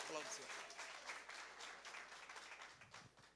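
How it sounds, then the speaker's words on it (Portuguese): A church congregation at a ministerial meeting claps hard in sustained, dense applause that fills the room, with a voice talking over it throughout. "Aplauda o Senhor Jesus bem forte"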